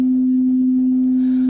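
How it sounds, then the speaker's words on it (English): A steady 256 Hz sine test tone plays alone as one pure, unwavering pitch at moderate level, holding throughout and cutting off abruptly at the end. "the top trace is the 256 Hz tone"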